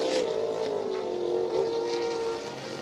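A model racing boat engine drones at a distance during a club race, its pitch wavering and stumbling as it misfires and struggles to pull away, with no talk over it.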